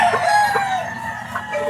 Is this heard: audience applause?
no